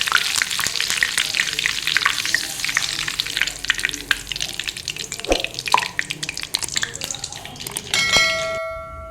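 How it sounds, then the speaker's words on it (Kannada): Jackfruit seed vadas fry at medium heat in hot oil, a loud, dense bubbling sizzle close by, with a few scraping clinks near the end as they are lifted out. "ಇದು ಮೀಡಿಯಮ್ ಫ್ರೈ ಮಾಡ್ತಾ ಇದ್ದೇನೆ"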